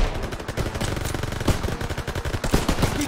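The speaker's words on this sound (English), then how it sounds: "The MGs, open fire!" Call of Duty WW2 machine guns fire in rapid, dense bursts of loud, close, overlapping shots over a battle backdrop, lasting about three seconds without speech.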